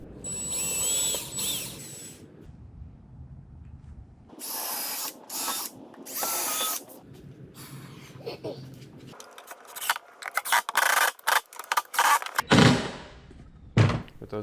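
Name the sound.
drilling through boat hull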